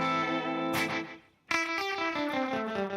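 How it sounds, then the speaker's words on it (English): A surf-style electric guitar runs through a Dan Echo pedal with the amp reverb off, playing bright picked notes and chords whose repeating echoes trail after each attack, with a brief gap before a fresh strum, loud and close with no talking. "The Dan Echo pedal sounds like this."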